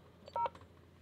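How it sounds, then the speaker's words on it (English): A single short dual-tone keypad beep from an NTT Japanese payphone as an SOS number is dialed, clear and close against a quiet background. "So you can see if I pick up the phone and dial one of these SOS numbers,"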